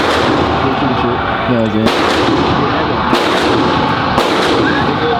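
Loud gunshots crack at an indoor gun range, several sharp blasts spaced about a second apart over a steady background din, with someone speaking briefly between shots.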